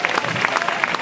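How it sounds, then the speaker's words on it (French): Wedding guests clap together in a dense, steady burst of applause, loud and close, with a faint voice under it. "Applaudissez."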